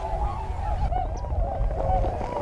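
Geese honking among a flock of migrating waterfowl in North Carolina, a dense, continuous chorus of overlapping honks close by with no pauses over a low background rumble.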